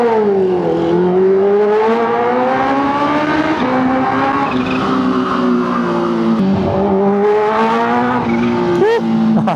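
Supercharged 2023 Kawasaki H2 Carbon motorcycle engine revving loud and close, its pitch climbing, dipping and surging again in a sustained howl with a faint voice underneath.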